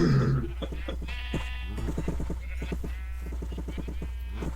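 Several Minecraft sheep bleat in overlapping, wavering calls over a steady low hum, fairly close and continuous.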